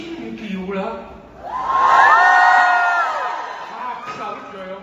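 An audience at a Chinese opera performance screams and cheers, a loud swelling mass of high voices that rises, holds for a couple of seconds, then fades into crowd noise.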